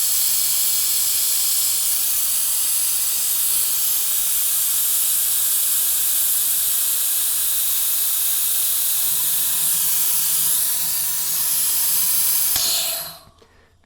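Degreaser being drawn by a siphon through fluid tubes during a Lincoln MKS P.T.U. fluid change: a steady, bright, close hiss that holds for about twelve seconds, then cuts off abruptly.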